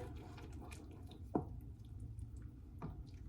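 Italian cheeses, including asiago, stirred into a creamy pink sauce in a skillet: quiet, soft wet squelches and a couple of sticky plops, close and faint, with no voices.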